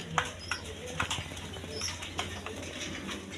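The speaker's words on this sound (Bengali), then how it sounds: "এগুলো ডিম বাচ্চা করানো কবুতর" Soft cooing from a pair of Lahori breeding pigeons, low murmuring calls repeating at a moderate distance, with a few faint chirps and wing rustles.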